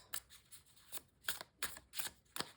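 A Rider Waite Smith tarot deck with a smooth rose-petal finish and gilded edges being shuffled by hand, giving a series of crisp riffling card bursts, about six of them in quick, slightly irregular succession, close and clear with no talking.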